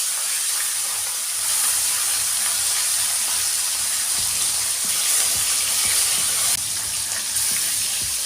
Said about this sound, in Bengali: আর এরকম উল্টে পাল্টেই আমি এই মাছগুলো ভেজে নিচ্ছি।